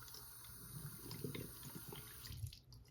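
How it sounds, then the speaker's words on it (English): Water poured from a sink tap into a small plastic Monster High toy crystal ball, a steady close splashing and trickling stream that swells and fades briefly near the end. "you pour the water in there"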